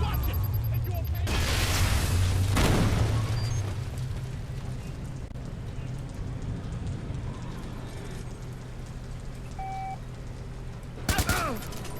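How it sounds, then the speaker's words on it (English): A grenade goes off in Watch Dogs Bad Blood, a loud rumbling blast that slowly fades into a hissing, noisy aftermath, with a short sharp crackle near the end. "Throw a grenade!"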